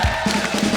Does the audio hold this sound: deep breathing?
no